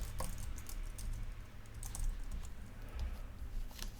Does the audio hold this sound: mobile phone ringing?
no